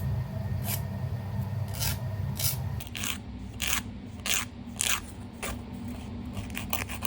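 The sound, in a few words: filing and shaping fingernails into an oval shape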